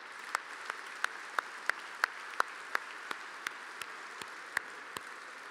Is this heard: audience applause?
yes